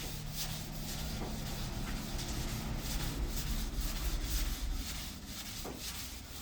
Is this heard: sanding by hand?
yes